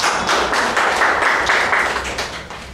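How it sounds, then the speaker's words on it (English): Meeting attendees clap together in a room, a loud, close burst of hand claps with a loosely pulsing rhythm that continues throughout and fades a little toward the end. "So good round of applause for our tackling"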